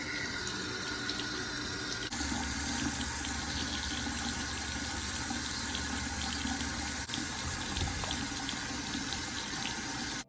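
Steady running tap water splashes over a homemade oatmeal bar soap being lathered, a continuous close rushing hiss that shifts slightly as the bar is turned under the stream.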